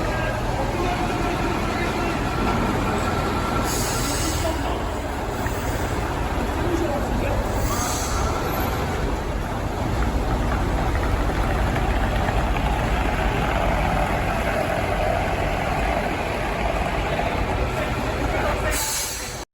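A Tatra bus being maneuvered in tight space inside the Tatra museum in Kopřivnice gives a steady low engine rumble, heard under someone talking continuously.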